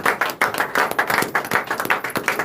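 A church congregation claps in praise of the Lord, a close run of quick, even handclaps lasting a couple of seconds with no words spoken.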